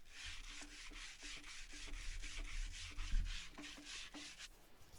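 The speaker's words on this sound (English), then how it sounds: "So now with the two pieces clamped together, I could give them a good sanding down" Two clamped scrap wood pieces being sanded smooth by hand, a steady rhythmic rasping of about a dozen back-and-forth strokes, close and moderately loud with no talk.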